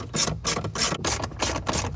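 A ratchet wrench loosens 8mm bolts on the clutch master cylinder of a B8 Audi, clicking close and loud in a quick run of about eight even strokes, with no talking.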